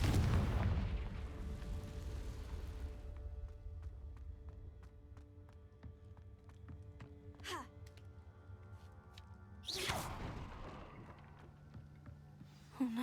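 Confringo fire spell blasts in the Hogwarts Legacy video game, a few sharp booming explosions with ringing tonal tails and magical whooshes, spaced several seconds apart over a quiet musical bed.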